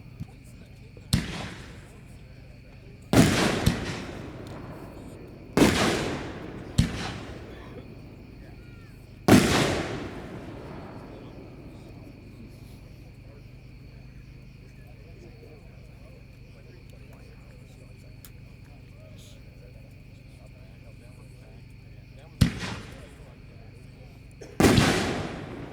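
Red Rhino Assassin of Artillery firework shells burst in a series of loud, sharp booms, several in quick succession, then a long pause before two more distant-sounding reports echo out in an open outdoor setting.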